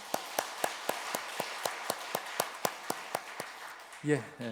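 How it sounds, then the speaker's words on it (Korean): A church congregation at a retirement service claps for the choir in steady unison, about seventeen evenly spaced claps, before a voice starts speaking at the end. "박수 한번 보내주세요."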